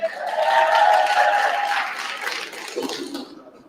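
A crowd at a debate in Harlem cheers and claps loudly, swelling early and then fading out toward the end, with a voice briefly audible as it dies down.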